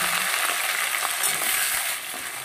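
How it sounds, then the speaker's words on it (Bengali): Potatoes and green chillies frying in hot oil with cumin seeds, a steady close sizzle and crackle that runs unbroken and fairly loud, with no voices. "দিয়ে দেব একটু জিরে ফোড়ন, দিয়ে দেবো কেটে রাখা আলু আর কাঁচা লঙ্কা।"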